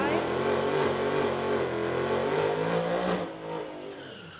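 An Audi and a Ford drag race down the strip, a loud engine roar with rising revs and tire noise that fades as the cars pull away.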